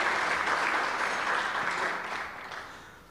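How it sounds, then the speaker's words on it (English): An audience at a business excellence awards ceremony claps steadily in a sustained burst of applause that gradually fades toward the end. "they still deserve that good round of applause"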